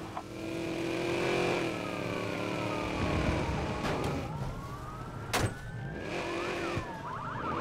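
A car in Watch Dogs accelerating hard to ram another vehicle: a rising engine whine with gear shifts, a police siren wailing alongside, and a sharp impact thump near the middle, moderately loud.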